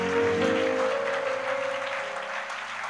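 A church congregation applauds with a loud burst of clapping that slowly fades, while a steady musical tone holds underneath.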